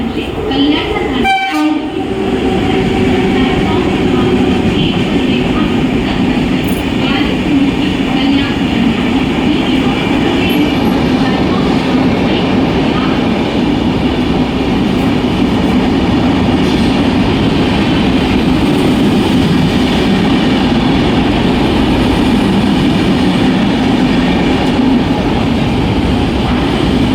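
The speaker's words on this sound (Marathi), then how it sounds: "प्लॅटफॉर्म क्रमांक 2 पर आई हुई लोकल 10:33 की मुंबई छत्रपति शिवाजी महाराज टर्मिनस जाने वाली ही लोकल है।" A Mumbai suburban local train bound for CSMT runs at Vikhroli station platform, a steady loud rumble and rail clatter filling the whole stretch, with a horn or brake burst near the start and station announcements faintly underneath.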